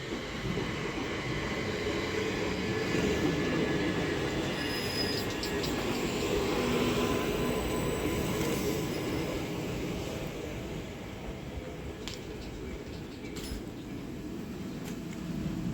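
Southeastern Class 375 electric train pulling into a station on the Medway Valley Line, running as the Strood service: a steady rolling rumble with drawn-out, high wheel squeal over the rails as it slows, heard alone without talk.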